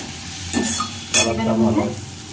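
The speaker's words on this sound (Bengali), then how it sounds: "রসুন বাটাটা ছিল রসুনটা দেখো ভাজা হয়ে গেছে লাল লাল হয়ে গেছে" Garlic paste fries in hot oil in a pan, sizzling quietly, with two sharp bursts of louder hissing and scraping as a spoon stirs the browned paste close by.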